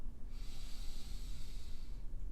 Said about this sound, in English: Another nice big deep inhale.